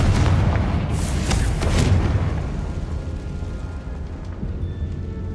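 A Confringo fire-blast spell explodes in the Hogwarts Legacy video game with a heavy, rumbling boom that swells early and then decays into a long, low rolling tail.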